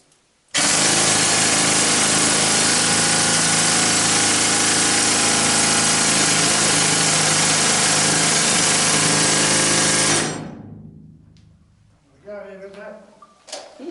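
A small engine-driven rock drill roars loudly and steadily for about ten seconds, then winds down and stops, followed by brief voices.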